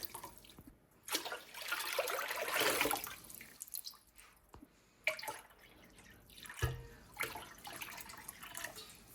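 Water poured into a pot from a faucet for boiling macaroni in a home kitchen, heard as a few bursts of running, splashing water with drips and clatter between them, fairly close, with no talking.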